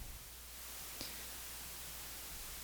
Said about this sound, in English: So now this is what white noise looks like across the EQ spectrum.